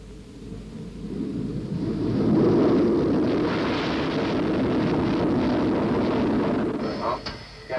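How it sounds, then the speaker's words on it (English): A SEPECAT Jaguar jet on its takeoff run: a roaring engine swells over about two seconds, then holds a loud, broad, steady thunder before easing toward the end, heard from a distance. "The Jaguar was cleared for its first takeoff."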